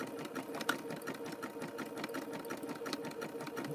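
A sewing machine stitching an oval rope bowl, its fast, steady mechanical whir and rapid needle chatter running continuously at a moderate, slightly distant level.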